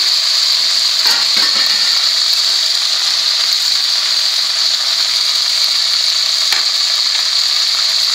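Curry leaves and dried red chillies fry together in hot oil in a pan, a loud, close, continuous sizzle with a few sharp crackles and pops near the start and one later.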